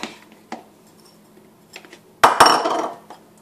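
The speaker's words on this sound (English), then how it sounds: "Take a mixing bowl, mix your ham" Ham being mixed in a mixing bowl for rosemary, ham and Swiss frittatas: a few soft isolated taps, then a close, loud burst of clattering, scraping utensil-on-bowl noise lasting about a second.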